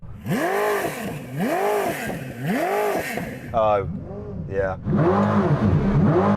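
A high-revving engine roars in repeated rising and falling sweeps, then bounces off a limiter, loud and close, with voices talking over it.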